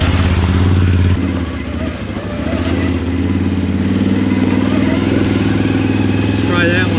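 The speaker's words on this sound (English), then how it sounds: "Engine braking, I'm in high gear, obviously." A 2023 Can-Am Outlander XT850 ATV engine-brakes in high gear on a deep woods trail, a continuous loud, rough mid-pitched engine drone with some clatter, its pitch dipping briefly near the start.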